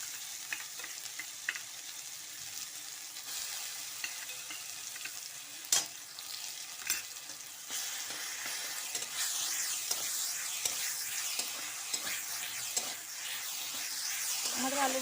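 Potatoes frying with onion and chilli paste give a continuous soft sizzle and hiss, broken by scattered clicks and scrapes of stirring against the pan.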